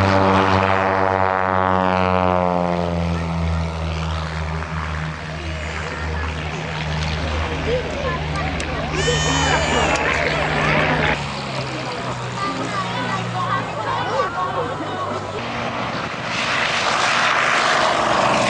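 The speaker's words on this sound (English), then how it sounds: "that's a knife-edge fly past down the runway." A fixed-wing airplane at an airshow flies a knife-edge pass down the runway, its engine drone loud and sweeping past with a descending pitch, then roaring steadily with wind noise.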